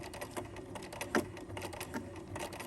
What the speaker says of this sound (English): And then I'm going to sew forward and then back stitch